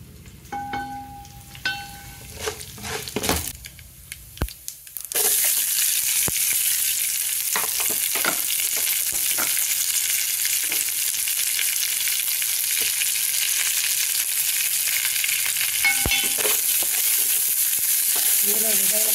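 Onion, green chilies, ginger and garlic hit hot oil in a pan for uggani, bursting into a loud, steady sizzle that holds for the rest of the clip after a few seconds of quieter clinking and handling.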